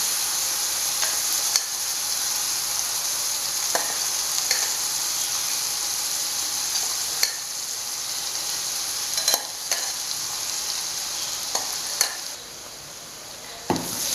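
Prawns sizzle in coconut oil for prawn pickle with a constant frying hiss, punctuated by sharp stirring clicks and scrapes, and quieten briefly near the end.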